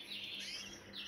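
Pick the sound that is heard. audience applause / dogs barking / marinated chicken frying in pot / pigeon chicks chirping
pigeon chicks chirping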